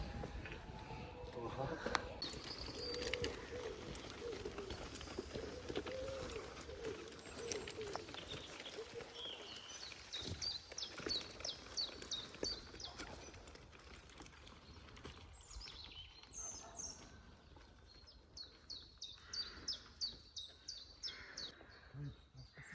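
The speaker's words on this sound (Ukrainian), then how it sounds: "Так гарно в парку пташки співають" Birds chirp and sing in scattered bursts in a park, against outdoor background noise, with people talking at times and a few louder nearby trills.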